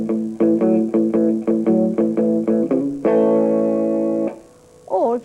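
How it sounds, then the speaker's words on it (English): Palm-muted electric guitar with right-hand damping: about ten short chunky chord stabs in an even rhythm, then one longer ringing chord and a brief trailing strum, played alone and close. "you can use this technique either to get quite a chunky chord sound like this"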